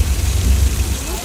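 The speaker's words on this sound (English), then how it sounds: "Left side, heavy rain falling." Heavy rain pours on a studio backlot as a staged storm effect, a dense, loud, steady hiss with a deep rumble underneath that continues without a break.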